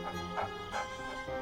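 A dog gives a few short, soft barks and yips close by, spaced apart in a small burst over steady low background noise.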